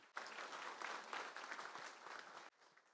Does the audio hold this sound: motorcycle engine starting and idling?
no